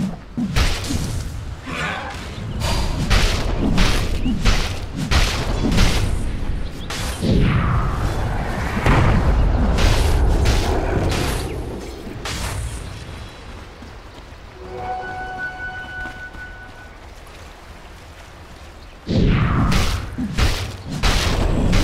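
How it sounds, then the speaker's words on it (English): Dense Dota 2 combat around a tower under attack, with repeated loud booming impacts and crashing explosions that come in quick, irregular bursts, ease into a thinner stretch with a faint tonal whine, then strike hard again near the end. "Dire's bottom tower is under attack."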